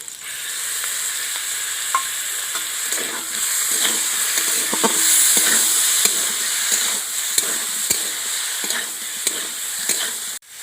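Potatoes sautéing in a pan with whisked sour curd added, a constant sizzling hiss with regular spatula scrapes and taps throughout, close-up and free of speech.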